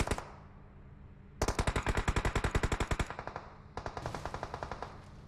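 Automatic gunfire in PUBG Mobile rings out in two long rapid bursts of loud close shots, with a single shot before them and no talking.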